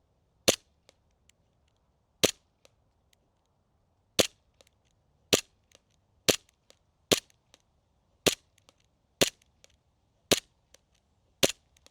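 A $220 airsoft pistol fires about ten sharp, evenly spaced single shots at a target 75 feet away, each crack close and loud against near silence, with faint ticks of impacts between.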